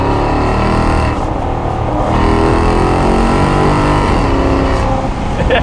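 A Maserati Quattroporte with a Ferrari engine revs hard up to 7,500 RPM, a loud, close, sustained engine howl that holds high and steady throughout.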